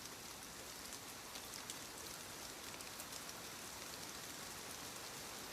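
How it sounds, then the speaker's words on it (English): Rain falling on a greenhouse glass roof, a faint, even hiss of steady drops without a break and with no other sounds. "The rain was fuller. The glass roof carried the sound outward. The gutters ran more clearly."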